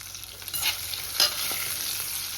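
Green bullet chilies frying in oil on a low flame, a soft steady sizzle with occasional light stirring scrapes and clicks, close and fairly quiet, no voices.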